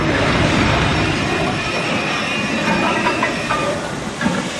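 A train in the 1993 film Schindler's List rumbles along steadily with a dense rolling clatter of wheels on rails, fading slightly toward the end, with no talking.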